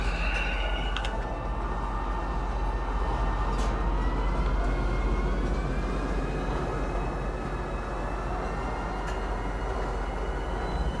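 A train in a space trucking game drones on in a steady, close rumble with a low hum, faint rising whines and a few sharp clicks, with no voices.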